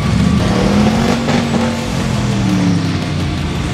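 Rock bouncer trucks racing on snow at the Insanity Fab Winter Challenge 2022, loud high-revving engines with a steady droning pitch that shifts as a vehicle passes close by, no talk.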